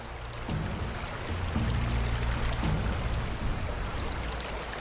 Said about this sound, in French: Un cours d'eau continue de creuser son sillon à travers Zion.